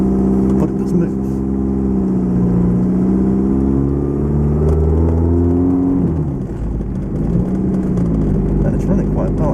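A Lotus Excel car on its first test drive, its engine droning steadily up close with rising and falling pitch as it pulls along, and someone talking over it.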